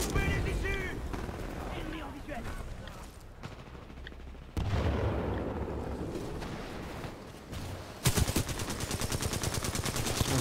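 Gunfire in the video game Titanfall 2, a nearly continuous barrage of automatic weapon bursts, loud and close, with a rapid rattling stretch near the end and a player talking over it.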